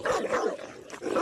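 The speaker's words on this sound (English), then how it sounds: "Suddenly, there is a loud bark from the dog." A dog barks loudly close by, a quick run of sharp, harsh barks filling the short moment.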